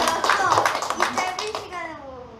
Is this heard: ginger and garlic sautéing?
no